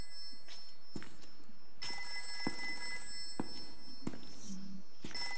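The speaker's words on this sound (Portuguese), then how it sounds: "Telefone." An old-fashioned telephone rings in the PS2 game Haunting Ground. Its bright, repeated bell trills in bursts at a steady rhythm, fairly loud over soft footsteps and ambient game sound.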